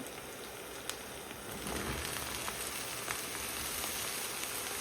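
Soya meat frying with onions in a pan for a Sri Lankan Tamil soya-meat curry, giving a steady crackling sizzle that swells slightly partway through, with occasional sharper pops and no talking.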